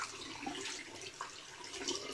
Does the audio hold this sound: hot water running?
yes